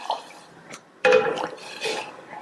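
Water is poured into a pan of sautéed carrots for soup, giving a short splashing gush with drips and a light clink of the pan, close by and alone.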